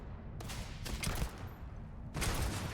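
Rapid bursts of gunfire from weapons in the video game Starfield, dense volleys starting just after a brief pause and returning in a loud cluster near the end, with no voices.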